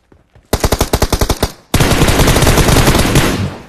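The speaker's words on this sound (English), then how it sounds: "shooting on the right." Automatic weapon fire in PUBG Mobile, a quick burst of about nine sharp shots followed by a sustained, dense stream of rapid gunfire, loud and close.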